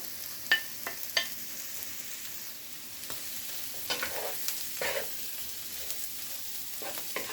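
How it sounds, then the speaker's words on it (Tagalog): Chopped leftover fried chicken fries for sisig in a home kitchen, a soft steady sizzle broken by a few sharp utensil clicks and scrapes, fairly quiet and without talk. "Lagay na rin natin ang mga na-chop na leftover na fried chicken."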